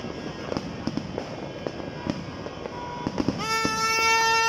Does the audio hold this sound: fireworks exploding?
yes